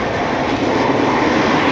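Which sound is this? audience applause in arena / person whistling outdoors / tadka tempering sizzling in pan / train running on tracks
train running on tracks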